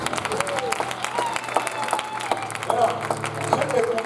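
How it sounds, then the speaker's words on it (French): A church congregation at a special Father's Day service applauds in scattered, moderately loud claps, with voices and singing-like tones running underneath. "On va l'applaudir."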